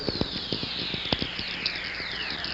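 Played recording of whistler radio waves from lightning: descending whistling tones sweep down under a crackle of sharp static clicks and pops, continuous and hissy throughout.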